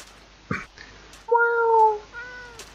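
A cat meows in a video game, with a short call followed by two longer, clear, tonal meows that rise and fall, close and fairly loud, over a quiet background.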